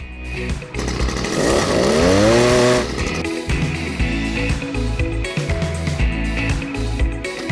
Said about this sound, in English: Because I have an auger, I'm going to use it just to pop a few holes in.